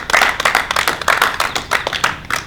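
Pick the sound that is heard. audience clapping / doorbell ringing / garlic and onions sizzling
audience clapping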